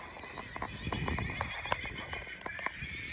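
A grey mare neighs in a drawn-out whinny, with hoof knocks and small clops scattered throughout, recorded fairly close outdoors.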